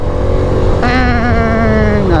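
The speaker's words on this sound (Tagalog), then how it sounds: "Ang sarap mag downshift." A Suzuki Smash 115R motorcycle engine downshifts with a sharp rise in revs, the pitch climbing then settling, loud and close over steady road noise.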